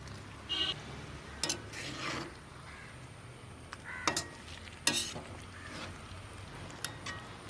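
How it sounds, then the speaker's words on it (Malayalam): Fried chicken for Kerala biryani being mixed in a pan, with a few sparse, faint scrapes and stirs breaking a quiet low background. "നമുക്ക് ഇനി അതൊന്ന് എല്ലാം കൂടെ ഒന്ന് ചേർത്ത് മിക്സ് ചെയ്യാം"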